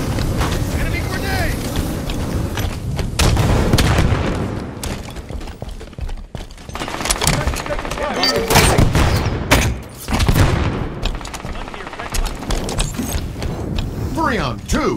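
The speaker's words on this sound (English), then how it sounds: "Enemy grenade!" A grenade explosion and gunfire boom through a frantic Halo 5: Guardians multiplayer match. A player speaks over a dense, continuous roar of blasts and shooting.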